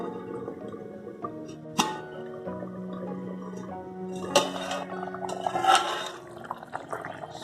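Tamil-style fish curry bubbling in a pot as the lid comes off, with soft liquid burbles and gurgles, a couple of sharp clinks, fairly close and moderate in level.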